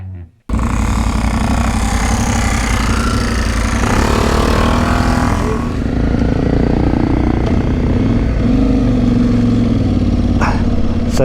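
Aprilia Tuareg 660 motorcycle engines on a countryside ride, a loud, close, continuous engine drone that rises and falls with throttle, starting abruptly and running on under wind noise.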